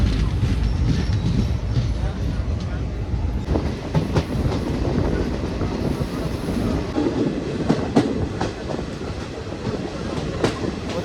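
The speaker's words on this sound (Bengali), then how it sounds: "ট্রেন এখন এসে পৌঁছালো বহরমপুর রেলওয়ে স্টেশনে।" Passenger train pulling into Berhampore railway station, a loud continuous rumble of wheels and carriages with scattered clacks and rattles throughout.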